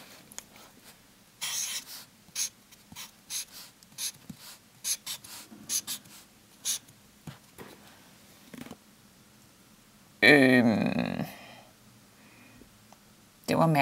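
A pen scratches on paper in short, close strokes with small pauses, then a louder, brief breathy burst cuts in before the writing resumes.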